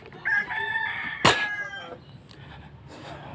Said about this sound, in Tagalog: May manok na.